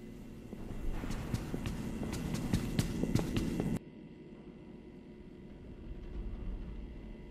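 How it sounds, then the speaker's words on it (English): Footsteps approaching in a horror game setting: steady, evenly spaced hard steps over a low hum for a few seconds, then the steps cut off abruptly and only a faint rumbling room tone remains. "I hear footsteps!"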